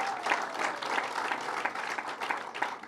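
An audience at a Hauppauge event on a zombie properties bill gives a round of applause, a dense continuous patter of many hands at moderate volume with no talking over it.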